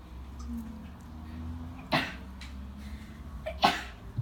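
Two sharp sneezes burst out about two seconds apart over a low, steady indoor hum. The second one is slightly louder and is followed by a small breath.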